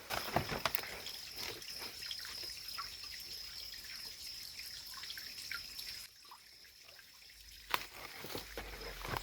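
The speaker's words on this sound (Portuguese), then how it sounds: "Dá para ouvir até a água correndo." Water runs in small waterfalls along a garden trail, a faint continuous trickle and splash with occasional drips, soft and distant, steady throughout.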